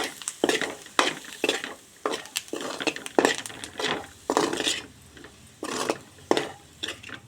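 Potato fry being stirred in a pan with the stove switched off: rhythmic scraping strokes of a spoon against the metal, about a dozen in steady succession, each with a soft residual sizzle, close and clear.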